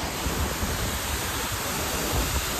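Water rushing over an overflowing dam at Pali Bhutivali, a dense, steady roar of broad noise with no pauses, loud and enveloping, heard alone without voices.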